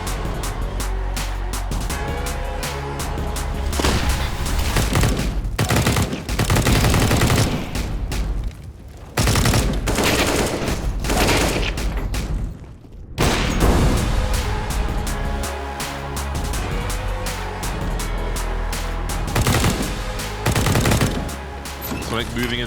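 Rapid, sustained gunfire from a CS:GO tournament match, with dense bursts of shots that run almost without pause. There is a brief lull midway before the shooting resumes at full loudness.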